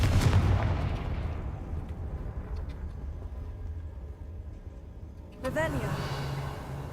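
A Confringo fire spell in Hogwarts Legacy goes off with a heavy blast at the start that fades into a long rumbling tail, followed by a second whooshing burst near the end.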